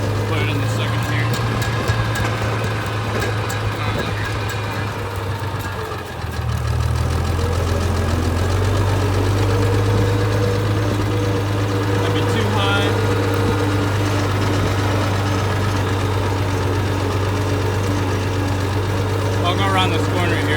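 Farmall 706 tractor with M&W pistons driving around, its steady low engine drone loud and close, shifting in pitch partway through as it pulls along, with talk at times under the engine.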